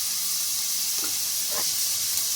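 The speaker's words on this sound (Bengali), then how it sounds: "এবার আমি ভালোভাবে ভেজে নেব সমস্ত সবজিগুলো।" Mixed vegetables frying in a pan with salt and ground pepper for a flattened-rice pulao, a steady soft sizzle with a couple of faint stirring scrapes, no talk.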